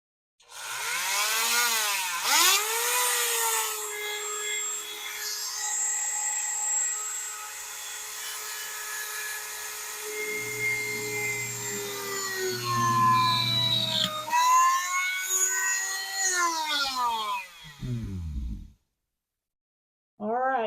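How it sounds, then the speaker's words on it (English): A small drill bores through a thin, paper-thin mussel shell being prepared for jewelry, giving a loud, steady whining buzz that wavers in pitch for most of the clip before cutting off near the end. "I'm going to start with this little mussel shell right here because it is thin, paper thin, and easy to drill."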